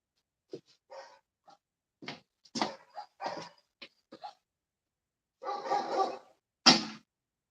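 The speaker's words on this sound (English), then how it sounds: "my dog's going mad right now" A dog barks excitedly indoors in a series of short, sharp, irregular barks and yips, some louder than others, with brief pauses between them.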